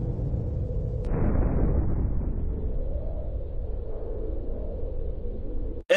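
Explosions in the video game Call of Duty, a deep rumbling blast that swells around the first second and rolls on as a sustained low roar for several seconds, with a sharp burst at the very end.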